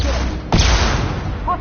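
A concussive shot fired in the video game Mass Effect 2, a sudden heavy boom that trails into a long rumbling roar, with battle noise and a brief voice around it.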